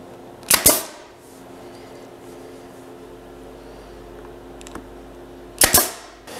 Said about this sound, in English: I put the nails right in the center of the trim